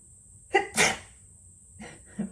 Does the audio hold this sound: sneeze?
yes